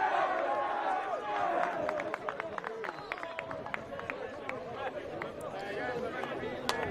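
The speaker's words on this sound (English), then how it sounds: "you can hear the crowd absolutely love that one" Spectators at a schools rugby match between Millfield and Clifton College make a lively hubbub of chatter and calls after a penalty, steady crowd noise with sharp shouts throughout.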